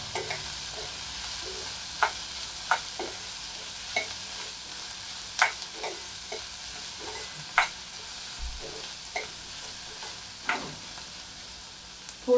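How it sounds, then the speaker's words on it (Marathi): Finely chopped onion sautés in a pan with a little salt, a constant soft sizzle under regular light taps and scrapes of a spatula, about a dozen strokes spread evenly across the clip. "तो आपण छान परतून घेऊया."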